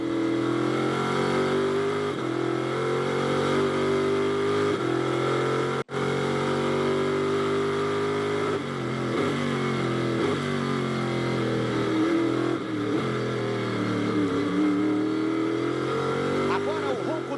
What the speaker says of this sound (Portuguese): Vamos curtir um pouquinho o ronco dos motores.